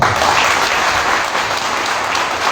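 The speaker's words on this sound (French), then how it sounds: "Il faut l'applaudir, s'il vous plaît." An audience at an evening political gathering applauds its leader with loud, dense, unbroken clapping that holds steady for the whole stretch.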